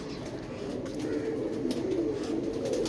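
A Sialkoti pigeon coos softly in a low, steady murmur that continues through the short stretch, faint and close with light background noise.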